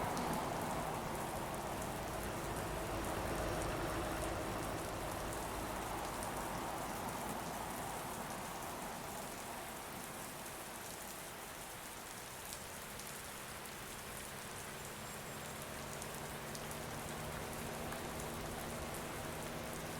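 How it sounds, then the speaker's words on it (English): Heavy rain in a truck-driving video game pours down steadily, a dense, unbroken hiss of drops drumming on surfaces throughout. "Just chucking it down with rain."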